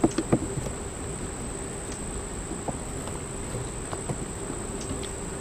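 Honeybees hum steadily from an opened backyard hive, a close, even buzzing drone with faint individual bees passing, over a few light taps and knocks from the hive being worked.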